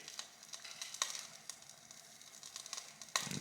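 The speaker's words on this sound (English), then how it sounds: "You hear some crackling here because I spilled a little bit of water as I was refilling the boiler." Spilled water crackles and sizzles as it boils off the hot outer surface of a Wilesco D20 toy steam engine boiler, a faint, steady fizzing marked by sharp intermittent pops, with no voices.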